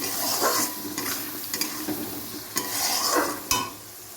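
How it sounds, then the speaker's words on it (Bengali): Spice masala with turmeric fries in a pan, with a soft sizzle under repeated scraping stirs of a spoon against the metal, several distinct strokes spread across a few seconds. "মশলা দিয়ে দিলাম হলুদও দিয়ে দিয়েছি ভালো করে মশলাটা কষিয়ে নেব"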